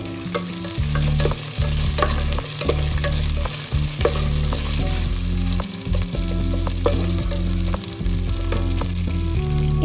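Curry leaves and salt frying in a hot pan over a steady, loud sizzle, with frequent scraping stirs from a spoon breaking through at close range, no talk.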